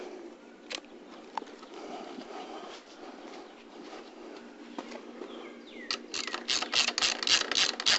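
Socket wrench ratchet clicking in quick bursts while snugging down a bolt on an SSR Buccaneer motorcycle in a garage, a run of sharp, fairly close clicks near the end over a low background hum.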